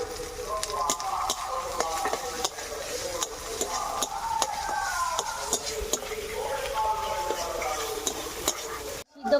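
Pre-fried prawns are stir-fried in a pan with browned onion and crushed garlic, a constant sizzle punctuated by frequent sharp spatula taps and scrapes against the pan, close and fairly loud.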